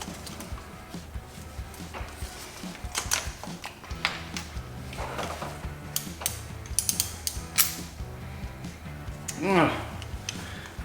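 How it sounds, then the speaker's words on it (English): A ratchet wrench working old spark plugs out of a 1992 Mazda Miata engine, with bursts of rapid metallic clicking and clatter of tools close by, scattered through several seconds under faint background noise. "let's get those old plugs out"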